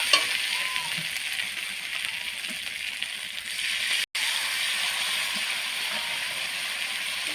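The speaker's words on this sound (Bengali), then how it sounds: "এটা ভালো করে এখন কষিয়ে নিব মশলাটাকে ভালো করে কষিয়ে নিব" Ground green and dried chilli spice paste with a little water fries steadily in a pan, a close, continuous hiss and sizzle with a brief drop out midway and no talking.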